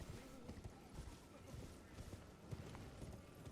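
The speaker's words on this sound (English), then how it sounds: "So now we're gonna hop on the horse." Horse hooves clip-clopping in Elden Ring as the rider crosses a stone bridge toward a boss fight, a steady rapid rhythm of hoof beats under a dense wash of game noise and ambience.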